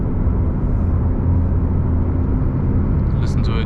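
From inside, a TECHART-tuned Porsche 911 Turbo S (992) in normal mode cruises with a smooth, steady low engine and road rumble, loud but even, with a brief higher sound near the end.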